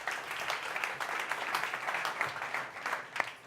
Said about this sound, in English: Big applause, Sandbox.